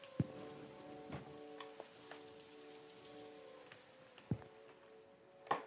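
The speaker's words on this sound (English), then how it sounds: "who's gonna come to the damn convenience store when it's raining like this?" Rain falls steadily outside a convenience store as a soft, even patter, broken by a few sharp clicks and knocks nearby.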